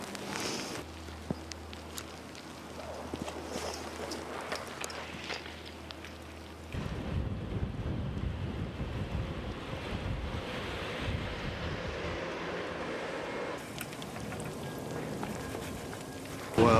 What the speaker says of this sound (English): It's snowing. It's pretty rough and blowy out here.